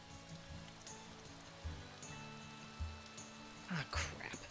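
Rain falling in the farming video game Story of Seasons: Pioneers of Olive Town, a faint, steady patter under quiet game music and tones, with a few soft thuds.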